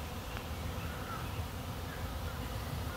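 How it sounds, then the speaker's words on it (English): A crowd of honeybees buzzes around a hive in a steady, dense drone that holds at an even, moderate level throughout. "Is that just a lot of bees or what in the heck is going on?"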